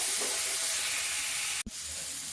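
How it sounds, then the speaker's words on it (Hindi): Tomato masala frying in a pan for a drumstick (sahjan) dal, a continuous close sizzling hiss with a brief stir interruption near the end. "चलिए अब इसको भूनते हैं थोड़ी देर, जब तक कि हमारा टमाटर जो है गल नहीं जाता"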